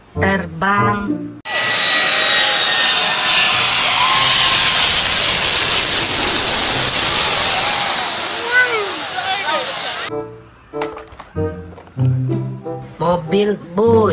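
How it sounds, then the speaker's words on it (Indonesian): An airplane jet engine gives a loud, steady, hissing roar for several seconds, with a voice speaking just before it and again as it fades out. "Pesawat terbang."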